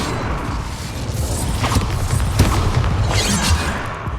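Incendio fire spell cast in the Hogwarts Legacy video game, a burst of whooshing flame with booming impacts and crashes amid dense battle noise, loud and continuous throughout.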